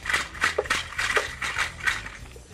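Dry shaking of ayacaxtli rattles in quick, uneven bursts, bright and scratchy, moderately close with no voices.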